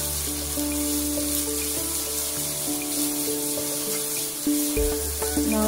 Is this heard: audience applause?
no